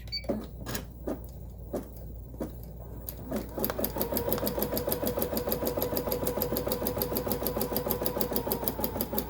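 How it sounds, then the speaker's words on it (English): A sewing machine stitches embroidery on fabric held in a hoop. A few separate clicks give way to a fast, steady mechanical chatter and whir close to the microphone that continues to the end. "down the presser foot and start"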